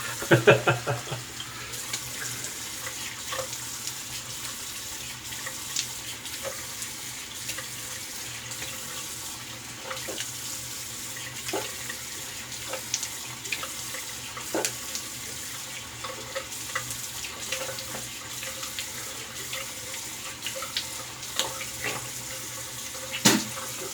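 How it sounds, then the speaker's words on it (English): Cold water runs steadily from a bathroom sink tap during a wet shave, a constant hiss with occasional splashes and small knocks against the basin, fairly close and moderately quiet. "Get some cold water going, best we can."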